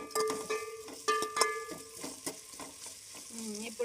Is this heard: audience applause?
no